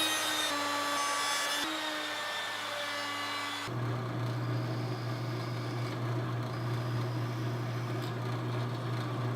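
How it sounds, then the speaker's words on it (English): Router table fitted with a rabbeting bit cutting rabbets along the edges of a wooden panel: a steady, close motor whine with a broad rushing cut that shifts to a lower, heavier drone partway through. "I'm going to rabbet each edge of this panel with a rabbeting bit at the router table."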